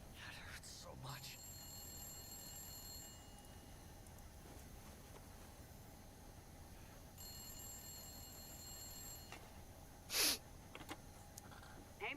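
Telephone ringing in the video game The Long Dark, two bursts of electronic bell tone heard over a quiet ambient background, with a brief sharp noise near the end.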